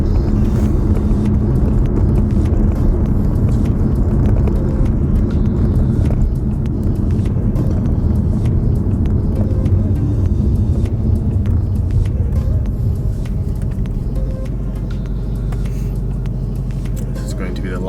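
Ford Mustang driving along a small road, a continuous loud low rumble that eases slightly toward the end, with a voice talking over it.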